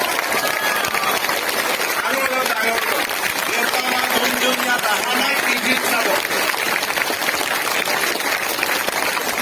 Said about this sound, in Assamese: মই সকলোকে নিজৰ নিজৰ পিতৃ মাতৃৰ বাবে ডাঙৰ কৰি এটা হাত চাপৰি বজাবলৈ অনুৰোধ কৰিছো